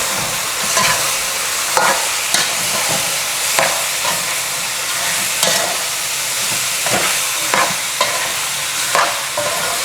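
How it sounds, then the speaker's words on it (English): Seasoned chicken back, salted and dusted with flour, herbs and spices for curry, sizzles in a pot while a spoon stirs it in repeated scraping strokes over a steady frying hiss, close and fairly loud. "Gonna stir our meat."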